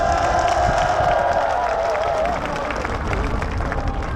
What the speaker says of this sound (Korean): 저 연주하시는 분이 양해해 주신 데 박수 한번 해주시기 바랍니다